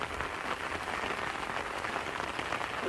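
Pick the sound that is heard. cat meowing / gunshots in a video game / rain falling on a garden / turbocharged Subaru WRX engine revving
rain falling on a garden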